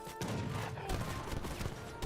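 Rapid, continuous gunfire fills an Age of Empires 3 real-time strategy battle, dense crackling volleys with occasional heavier bangs sustained throughout at steady loudness.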